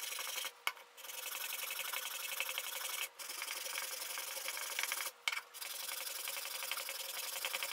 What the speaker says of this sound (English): Then I sanded the edges I just cut.